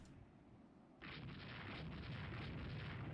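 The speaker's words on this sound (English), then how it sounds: "Don't just shell the ship with 5-inch guns." 5-inch naval guns fire in the warship game Rule the Waves 3, a booming onset that swells into a sustained, rumbling barrage of explosions.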